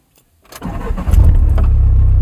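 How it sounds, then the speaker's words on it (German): A car engine cranks briefly and catches after starting trouble, then settles into a loud, steady low idle close by. "wir haben Probleme, das Auto zu starten"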